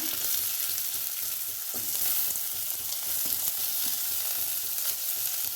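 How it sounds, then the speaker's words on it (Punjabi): Onions frying in desi ghee with curry leaves for upma give a steady, close sizzle with faint stirring scrapes throughout, and no one speaks. "ਮੈਂ ਇਹਦੇ ਚ ਪਾਉਂਗੀ 2 ਚਮਚ ਦੇਸੀ ਘਿਓ ਦੇ ਜੇਕਰ ਤੁਹਾਡੇ ਕੋਲ ਕੜੀ ਪੱਤਾ ਤੁਸੀਂ ਹੁਣ ਇੱਥੇ ਕੜੀ ਪੱਤਾ ਯੂਜ਼ ਕਰਨਾ ਤੇ ਹੁਣ ਇਹਦੇ ਚ ਆਪਾਂ ਪਹਿਲਾਂ ਪਾ ਦਾਂਗੇ ਪਿਆਜ਼"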